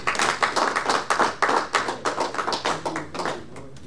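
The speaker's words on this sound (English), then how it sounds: "Please, can we still give another applause?" An audience at the second annual general meeting of a Baltimore community organisation claps in a steady, fairly close round of applause with distinct individual hand claps, no talking over it.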